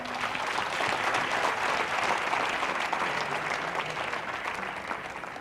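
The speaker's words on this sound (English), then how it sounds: "I think a big round of applause." Sustained audience applause at a quiz national finals, a dense, even clatter of many hands clapping that fills the whole stretch and fades slightly toward the end.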